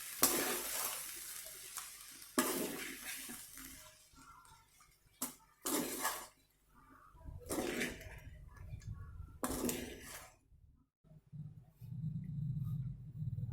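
Food being stirred in a pan on a home stove, heard as a series of short scraping, sizzling bursts separated by quiet gaps, close and moderately loud.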